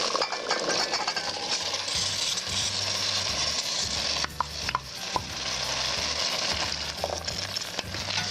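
Boiled chickpeas and meat sauté in a pan with grated tomato and tomato paste, a soft continuous sizzle under occasional stirring clinks and scrapes.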